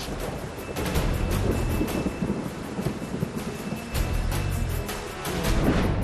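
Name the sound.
rain and thunder during floods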